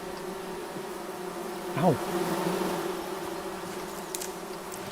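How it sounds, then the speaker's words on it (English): Bees buzz in the forest game Among Trees, a steady droning hum with one insect sweeping close and loud before fading back into the constant buzz; a brief exclamation is heard. "Stay away from the bees."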